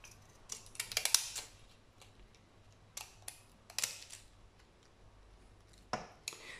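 Scissors snipping paper at a tabletop papercraft session for decorated postal mail, a few short crisp cuts in small bursts separated by quiet pauses, close and fairly soft.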